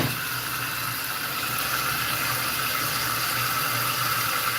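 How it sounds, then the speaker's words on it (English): Tap water runs steadily into a kitchen sink as a cooking pot cools, a continuous even rush with a low hum beneath, close and constant, no talking. "Let this pot sit in some water."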